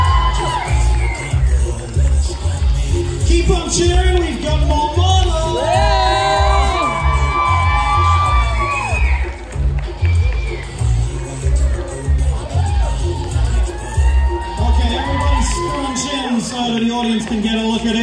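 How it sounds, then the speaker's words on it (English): Spectators at a steampunk fashion show keep up loud, sustained cheering with shrill whoops and shouts, a dense close crowd roar running the whole way through with several peaks of excited yelling. "Keep on cheering, we've got more models!"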